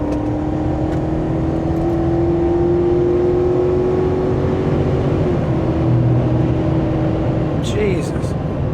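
A vehicle with a big 6.2-litre engine, running without a trailer, accelerates hard, its loud, close engine drone holding steady and then shifting pitch as it pulls.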